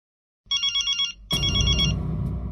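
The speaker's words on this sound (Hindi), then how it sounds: "इस वक्त किसका फोन आ गया?" A telephone bell rings in a rapid trilling burst, pauses briefly, then rings again while a loud, busy background noise swells in underneath.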